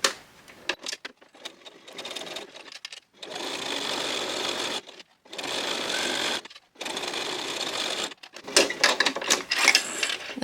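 A sewing machine stitches a key fob in several steady bursts of rapid mechanical whirring. Brief pauses separate the bursts, and light handling clatter comes between them. No talking.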